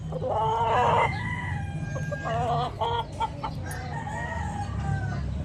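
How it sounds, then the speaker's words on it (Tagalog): A rooster crows loudly and up close, several drawn-out calls with clucking mixed in over a steady background hum. "Napakagulang na manok, bandilaan."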